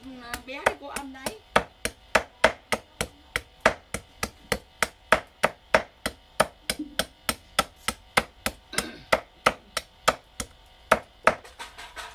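Cleaver chopping bones on a board for Vietnamese muối xương, dozens of sharp, loud thwacks in a steady, rapid rhythm, close by and continuing throughout, with a few soft voice murmurs between strikes.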